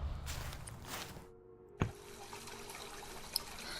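Water runs from a tap in a puzzle video game, a soft, hissing stream with faint splashy texture, briefly cutting out before a sharp click and then resuming at low level with a small drip-like tick.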